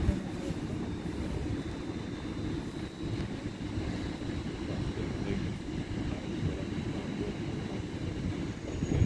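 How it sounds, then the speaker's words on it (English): A train passes through Doncaster station with a steady, loud low rumble of wheels and engine throughout, no speech over it. "Train."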